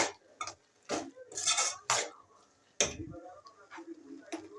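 Spoon clatters against a pan while bottle gourd kootu is stirred with dal water, giving sharp scraping clinks in bursts, with a few voice-like sounds mixed in among the clanks.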